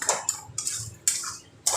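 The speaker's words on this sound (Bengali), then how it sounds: "আগে কম স্টিম রেখে গ্যাসে আলুটাকে ফেটিয়ে নিন" A boiled potato is mashed in a metal pot on a gas stove: four distinct clanking strikes of a utensil against the pot, spaced about half a second apart, close and clear.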